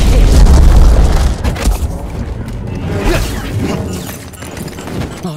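A flashbang explodes in the video game Jedi Fallen Order, a loud deep boom that hits at the start and then rumbles and rings as it fades over a few seconds.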